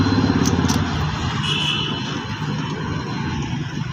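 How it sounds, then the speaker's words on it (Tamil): A vehicle engine turns over and settles into a steady, fairly loud idle rumble, with a couple of brief clicks at the start, the gearbox in neutral and handbrake released, and no talking. "இப்போ என்ன பண்ணுறோம், வண்டி ஸ்டார்ட் பண்ணுறோம்."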